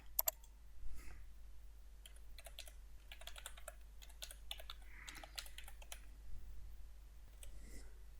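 Someone types a login and password for an Outlook.com email account on a computer keyboard, with quiet, close, irregular key taps running steadily over a low background hum.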